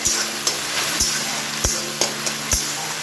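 Boiled taro with turmeric powder fries in a pan under a constant sizzle, punctuated by regular knocks and scrapes of a spatula stirring every half second or so, close and clear.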